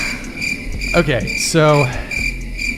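A steady, high chirping of crickets runs throughout as a sound effect, with a person briefly speaking over it.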